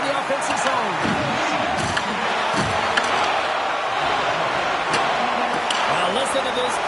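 Arena crowd in the NHL 2026 hockey game roars and cheers steadily as fans stand to salute near the end of the game, a dense wash of noise with scattered bangs and thuds, and a commentator's voice running over it.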